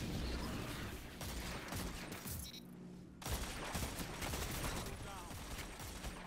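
A video-game gun fires a rapid, dense volley that runs almost continuously, dropping out briefly before resuming at full loudness, with a player's voice mixed in.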